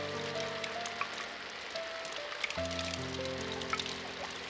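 Light, easing rain from a brief shower in the game Omoide ni Kawaru Kimi, gentle dripping and patter with a few sharper drops, set under quiet held musical tones.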